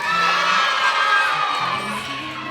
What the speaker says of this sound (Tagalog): Ang hina na sigaw!